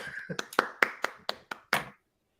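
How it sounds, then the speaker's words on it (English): About eight distinct handclaps ring out at a live podcast taping, sparse and uneven like a small audience, each sharp and close before everything stops dead. "And let's give them some applause."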